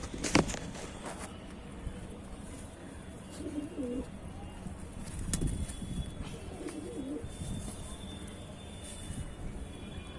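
Pigeons coo softly near the ground as pieces of roti are tossed to them, the low murmuring calls repeating in short bursts over outdoor background noise with a faint aircraft hum.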